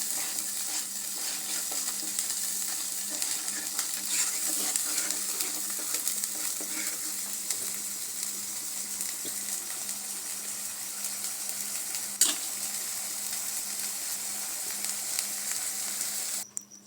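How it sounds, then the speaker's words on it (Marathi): Ground coriander and cumin, with chili and turmeric, fry in oil for palak paneer, giving a continuous, even sizzle throughout with occasional faint scrapes of stirring and one sharp tap near the end. "आता तेल सुटेपर्यंत थोडंसं हलवून घेऊया."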